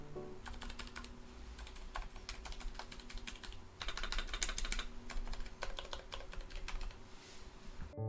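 Soft, muffled keystrokes tapping in steady bursts up close, a quiet hot-swap keyboard with very silent key switches being typed on continuously with brief pauses between runs.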